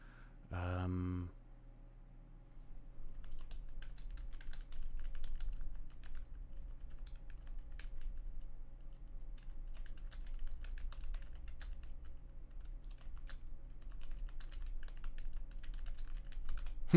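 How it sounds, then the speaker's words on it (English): Keys on a computer keyboard click in quick, uneven bursts for many seconds. The typing is faint against a low background hum, and a brief tonal sound plays near the start. "Me typing."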